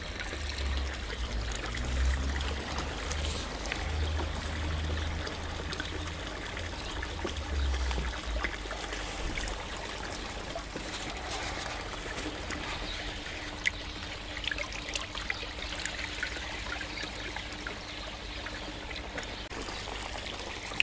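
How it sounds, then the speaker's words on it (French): Water tipped out of a fish acclimation bowl at a garden pond, a continuous trickling and pouring splash that runs steadily for about twenty seconds at moderate level, with a low rumble early on and a few sharper drips later. "je vais donc jeter l'eau qu'il y a dedans"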